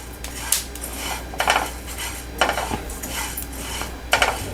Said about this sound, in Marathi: आपली बडीशेप भाजून झाली असं समजायचं इथे मी आता थोडा ओवा आहे तोही घालते आणि त्याचबरोबर या दोन हिरव्या वेलच्या आहेत त्या आपण घालते आहे त्याही याच्याबरोबर बडीशेपबरोबरच भाजून घेऊया